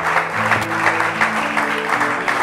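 Congregation applauding the Lord in a church service, a steady wash of clapping hands with a sustained tonal hum of music or voices underneath throughout.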